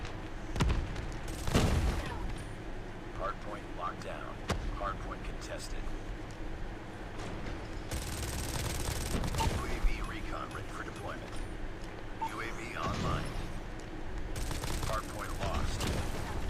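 Heavy machine gun fire in a video game, bursts of rattling shots and booms mixed with mechanical clatter, heard under steady talking throughout.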